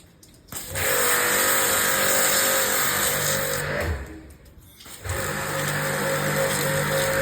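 Pressure washer spraying moss off the wall of a house, a loud steady motor drone with hissing spray that dips briefly and then resumes.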